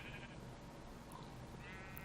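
A sheep in a Minecraft game running the Better Than Wolves mod gives a couple of faint bleats over a constant background hiss, one near the start and another toward the end.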